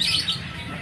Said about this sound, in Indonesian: Banyak sekali burung.